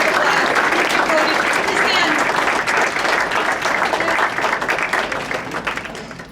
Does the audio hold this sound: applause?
yes